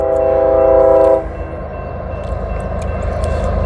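A heritage diesel locomotive approaching a level crossing sounds one sustained horn blast of about a second over a steady low rumble of the moving train, the rumble continuing after the horn stops.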